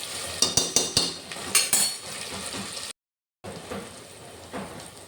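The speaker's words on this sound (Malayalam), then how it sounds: "അതും കൂടി ഇതിലേക്ക് ഇട്ടിട്ടൊന്ന് ഇളക്കി കൊടുക്കാം" Metal spoon scraping and clinking in a pan while fennel seeds are stirred into egg biryani masala, a quick series of sharp taps at first, then softer rustling after a short silent break.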